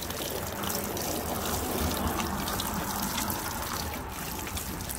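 Water splashing steadily onto potted homestead plants outdoors as they are watered, a continuous close, hissing trickle and spatter with faint background noise.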